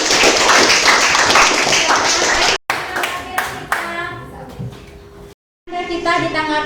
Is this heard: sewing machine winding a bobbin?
no